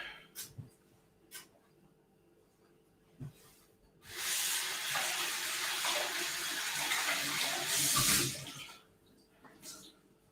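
A tap runs strongly for several seconds as something is rinsed under the water, a steady close hiss and splash preceded and followed by a few small knocks and clicks.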